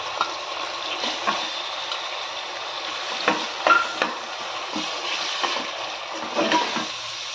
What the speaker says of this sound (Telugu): మసాలా ఇలా ఫ్రై అవుతుండగా